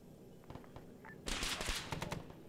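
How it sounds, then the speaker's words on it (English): Bursts of automatic gunfire aimed at a helicopter in a military combat video game, a quiet stretch followed by a loud, dense rattle of rapid shots lasting over a second, with faint voices underneath. "That's what's firing at us. Shooting at us."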